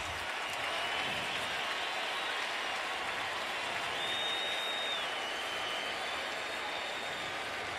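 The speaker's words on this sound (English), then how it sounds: "And this reaction from the crowd," A stadium crowd at a Redskins–Cowboys NFL game applauds and cheers steadily as an injured quarterback gets to his feet, a broad, even roar that holds at the same level.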